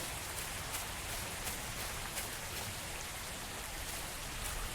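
Steady rain pours down in the horror video game Pipe Head, a dense, even hiss filling the scene with no pauses or voices.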